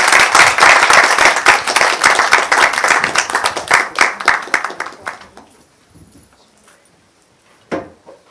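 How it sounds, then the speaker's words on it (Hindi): Audience applause at an acting class theatre showcase: dense, loud clapping for about five seconds that thins and fades into near silence, with a brief faint burst near the end. "आपकी भरपूर तालियों।"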